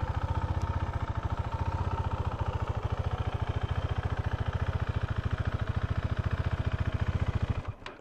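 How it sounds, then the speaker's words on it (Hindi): A KTM Duke 390 BS6 motorcycle idles with a fast, even thumping beat, loud and close, then stalls on its own near the end, the pulse dying away abruptly. "अपने आप ये बाइक बंद हो जाएगी मैं किल स्विच कुछ बंद नहीं करूँगा अपने आप बाइक बंद होगी"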